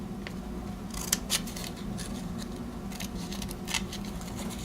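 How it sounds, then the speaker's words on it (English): Scissors snipping out a small Post-it note, a few faint, close cuts over a steady low hum from a fan or machine in the room. "I cut it out"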